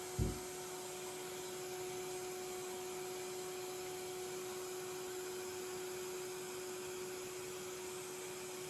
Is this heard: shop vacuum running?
yes